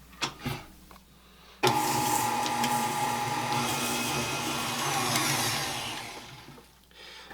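An electric hand mixer creams one stick of butter in a bowl, starting abruptly after a couple of soft clicks and whirring steadily and loudly for about five seconds before winding down.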